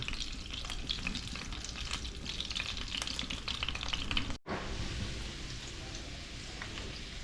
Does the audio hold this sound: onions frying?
yes